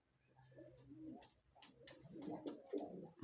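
Pigeons coo softly and close by in short, rolling bursts, some overlapping, with faint rustling and a quiet hum in the background.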